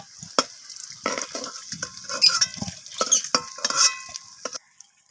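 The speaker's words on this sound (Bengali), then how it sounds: "আলুগুলোকে আমি তুলে নিচ্ছি তেল থেকে।" Reddish-fried potatoes lifted out of hot frying oil with a utensil, soft sizzling punctuated by sharp metallic scrapes and clinks against the pan, close and intermittent.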